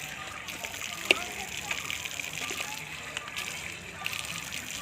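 Water sloshes and splashes as someone washes their feet outdoors among devotees, with a brief sharper splash standing out over steady background chatter and voices.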